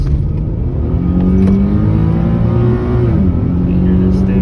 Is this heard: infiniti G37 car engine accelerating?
yes